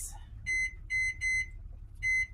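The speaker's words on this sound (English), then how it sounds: "let me set the timer" A household timer set for nine minutes gives four short, bright electronic beeps in an uneven rhythm. They ring out moderately loud over a quiet room hum, with no talk.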